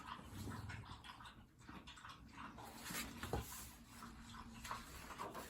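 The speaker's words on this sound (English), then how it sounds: "That sound is Elena drinking her water" A dog lapping water from a bowl, a quick run of wet slurping licks that comes close and clear over a quiet room, with small pauses and one sharper clink partway through.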